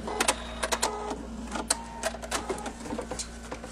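Sewing machine stitching paper-pieced quilt hexagons, a close, quick rhythmic run of mechanical clatter with short bursts and pauses.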